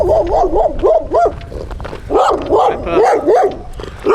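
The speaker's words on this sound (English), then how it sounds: "You gotta watch out around here for dogs." Loose dogs on a trail near Cuba, New Mexico bark repeatedly at hikers, loud and close, in two bursts of rapid barking with a short pause between.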